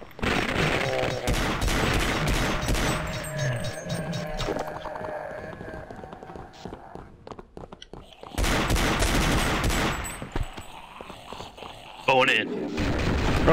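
AK rifle gunfire in the horror video game Afraid of Monsters, loud bursts of rapid shots in several volleys with pauses between them, mixed with game noise and a person talking.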